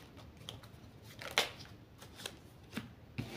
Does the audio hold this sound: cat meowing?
no